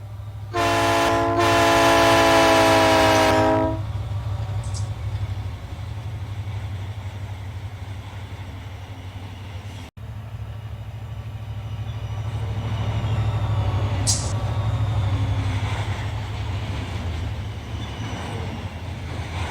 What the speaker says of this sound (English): I'm going to start slowing the train down because the turnoff point for Arvin Creek is literally just up ahead.